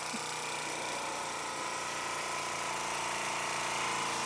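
A 97-year-old Wormar Trojan Model D model steam engine runs on an overfilled, overpressured boiler, giving a steady, faint hiss and mechanical chuffing that holds evenly throughout with no voices.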